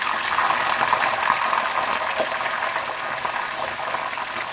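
Fenugreek seeds fry in hot oil on a stove for homemade hair oil, giving a steady bubbling sizzle with small crackles throughout, close and moderately loud with no talking.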